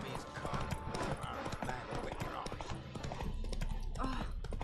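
Horse hooves clip-clop at a steady trot in a video game, fairly close and continuous, while a voice talks over them throughout.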